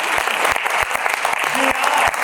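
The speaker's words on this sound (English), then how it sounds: "please, a big applause for the 3 others." An audience claps steadily through a short burst of applause at an improv theatre show, dense and close with a few sharper individual claps standing out.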